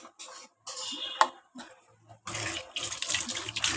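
Water splashes and pours in uneven spurts, stopping and starting, then a fuller steady stream pouring into a cooking pot of banana flower kootu.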